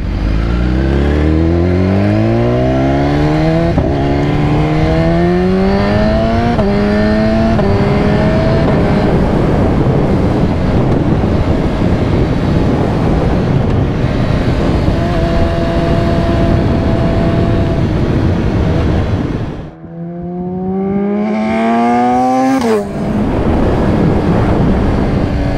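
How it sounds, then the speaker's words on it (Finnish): A BMW S1000RR motorcycle accelerates hard through the gears, its engine note climbing repeatedly in loud rising sweeps with brief drops at each shift, heavy wind noise throughout, then a short lull before another strong pull. "Tää tuntuu jotenkin tosi smoothilt niinku lähtee kiihdyttää tällä pyörällä."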